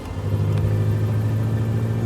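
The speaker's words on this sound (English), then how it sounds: "here we're driving over gravel" A Lotus sports car drives over gravel, its engine a steady, close low rumble under a continuous crunching tire noise with no break across the short stretch.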